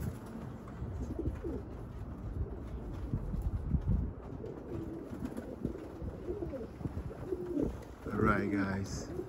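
Pigeons cooing softly and flapping about nearby as the flock flies, with a voice briefly near the end.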